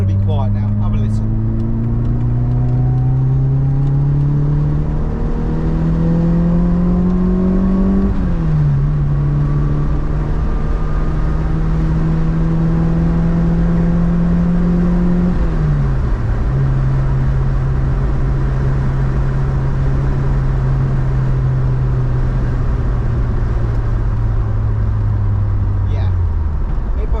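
Ford Escort RS Turbo Series one with Bosch mechanical fuel injection, engine droning steadily while driving, revs climbing through two gear changes with brief dips at each shift, a loud continuous in-car hum with no talk.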